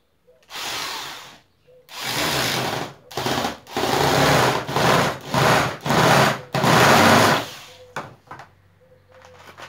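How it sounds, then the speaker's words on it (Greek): Power drill boring and driving screws into wood while building a soccer goalpost, heard as a series of loud, close motor bursts of a few seconds each, separated by short pauses, ending with faint clicks. "Το ξύλο το τρυπάμε πρώτα με το τρυπάνι, για να μπορέσουμε να το βιδώσουμε άνετα."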